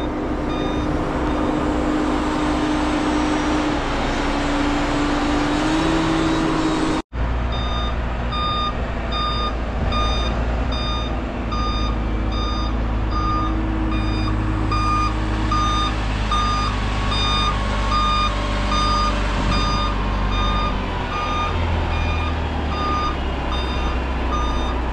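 Several ready-mixed concrete trucks pull in at a slab pour, their heavy diesel engines rumbling loudly and steadily while a reversing alarm beeps in a regular, repeating pattern over the top.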